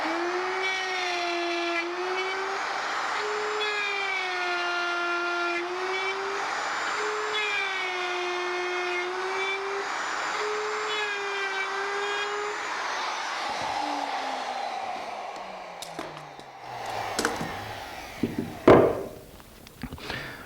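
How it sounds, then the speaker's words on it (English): A router with a dovetail bit cuts through poplar, a steady high-pitched whine rising and falling under load, then winding down, followed by a few clunks and knocks as the tool is set aside. "Now I just finish it out with the dovetail bit."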